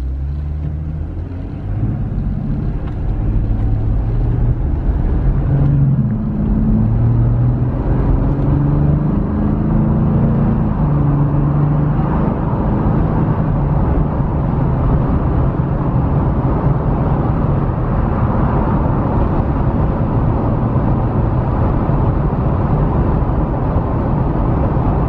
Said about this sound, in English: this will give you acceleration from a standstill up to 55, 60 miles an hour.